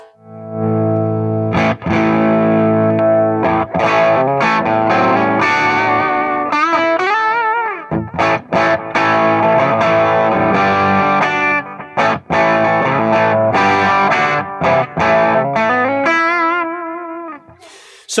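Distorted electric guitar through an amp, miked from a step back so some room ambience comes in, playing loud sustained chords and bends with short gaps between phrases.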